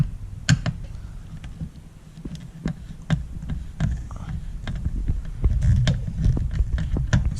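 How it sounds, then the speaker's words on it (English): A car door panel is pried loose, a series of sharp plastic clip pops, snaps and creaks spaced irregularly, with rustling and handling noise in between, close and fairly loud. "let's get this door panel off"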